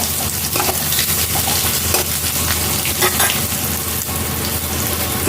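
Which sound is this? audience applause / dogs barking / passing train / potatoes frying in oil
potatoes frying in oil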